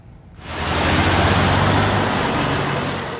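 Steady road traffic in Pendik, Istanbul, a broad continuous roar of passing cars and heavier vehicles that swells in after a quiet start and holds loud and close throughout, with no talk.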